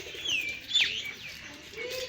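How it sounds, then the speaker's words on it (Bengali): A dove calls from a mango tree outdoors, a few short, clear calls with a low coo at the end, heard nearby and alone. "কোথায় ঘুঘু?"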